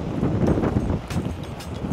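Steady wind blowing across the microphone on a hot day at Yehliu Geopark on Taiwan's north coast, a continuous low rumble with gusty buffeting throughout.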